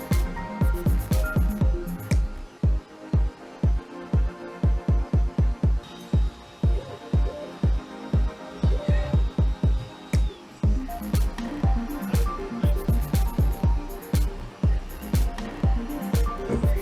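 An Ender-3 S1 Pro 3D printer runs steadily, its stepper motors pulsing in a fast, rhythmic series of ticks and whirs over a continuous fan hum, heard alone and close.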